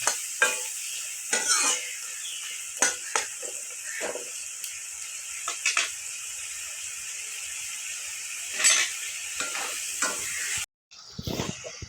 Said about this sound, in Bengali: টমেটো আলু ভেজে নিচ্ছি